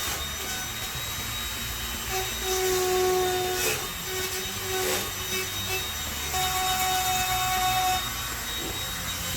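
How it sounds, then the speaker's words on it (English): Dremel rotary tool cutting out glue on a Mini-Max 1030S ultralight aircraft build, a steady high-pitched whine with shifting tones as it bites into the material, continuous and close throughout. "Using a Dremel."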